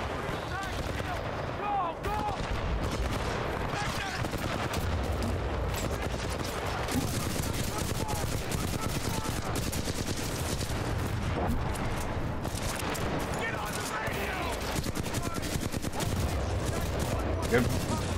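Constant gunfire in Titanfall 2 runs through a dense, unbroken battle mix, shots blurring into a steady roar with voices faintly underneath.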